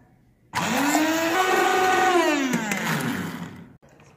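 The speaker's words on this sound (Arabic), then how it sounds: "دابا غنجيب يا مولينكس يا ماكينه بحال هذه اللي كتفضلوها غنطحنوها مزيان" A Moulinex blender grinds food for homemade ketchup, starting abruptly and whining loudly and steadily with a pitch that rises then dips, for about three seconds before cutting off.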